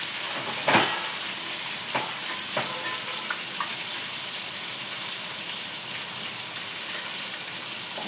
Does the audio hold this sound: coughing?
no